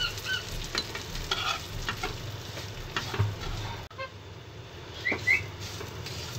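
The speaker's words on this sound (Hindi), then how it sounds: "देखिए हम घी के अंदर सिवैयों को अच्छी तरीके से भून लेंगे।" Vermicelli roasts in ghee in a wok, stirred with scraping and clattering strokes over a quiet sizzle, close by, with a faint whistle and a brief pause partway through.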